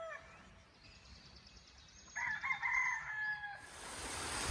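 A rooster crows once at a middle distance, a drawn-out morning call over quiet outdoor ambience at an Appalachian Trail hostel, with other sounds rising at the end.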